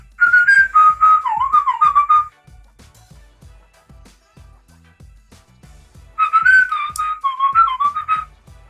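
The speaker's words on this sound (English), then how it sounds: "so let me do whistling." A person whistles two short warbling phrases loud and close, separated by a pause filled with a steady low rhythmic thumping beat.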